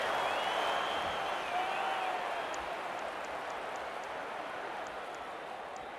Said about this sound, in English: That try sends the home crowd crazy.